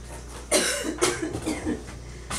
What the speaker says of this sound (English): Coughing up hot pepper.